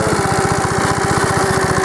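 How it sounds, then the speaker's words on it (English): A 1952 AirCaps Sit'n Cut riding lawnmower runs steadily with its small engine putting out a fast, even putter and throbbing low chug, loud and close throughout with no voices. "Here's Mr. Nolan Guidry cutting grass on the 1952 sit and cut lawnmower."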